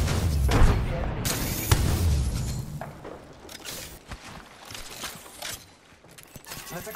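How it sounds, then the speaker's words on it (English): Frag grenade blasts in Apex Legends, a few heavy booms in the first two seconds followed by scattered gunfire-like bursts and clatter, loud and close throughout. "Frag grenade sent."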